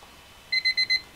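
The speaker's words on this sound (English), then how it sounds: "So there's the timer." Auction timer going off during a live online auction, four quick bright electronic beeps in an even rhythm, close and clear over faint background hiss.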